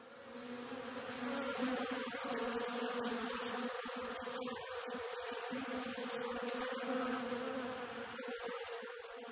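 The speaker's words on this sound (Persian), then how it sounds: "زنبورها برای تولید 1 کیلو عسل باید به 5 میلیون گل سر بزنند" Wild honey bees hum in a dense, continuous drone that holds steady and fairly close throughout, with no voices over it.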